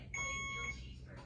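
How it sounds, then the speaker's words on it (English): A single high electronic beep from an intermittent alarm, with a piercing tone, sounds over a low background hum, then fades out. "We're still dealing with this beeping off and on."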